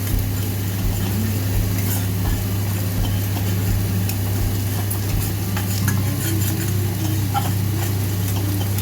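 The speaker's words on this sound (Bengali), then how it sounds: "এবার আমি ওর মধ্যে বেশ 1 চামচ মতো কাশ্মীরি লঙ্কার গুঁড়ো দিয়ে দিলাম।" Kashmiri chili powder sizzling in hot butter in a pan, a loud steady frying hiss with repeated scraping stirs against the pan and a low constant hum underneath.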